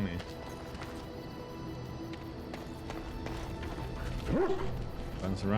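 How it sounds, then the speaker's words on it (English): A dog in the fantasy video game Dragon Age: Origins barks excitedly in quick, fairly quiet yips amid game ambience and footsteps, ending with a short rising whine. "Runs around here barking excitedly."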